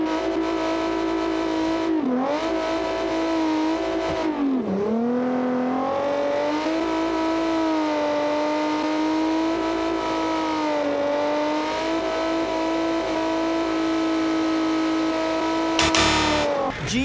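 A Toyota 4Runner engine in BeamNG.drive, held at a steady loud drone while climbing a hill, with brief dips and revs near the start and a surge at the end, no talking.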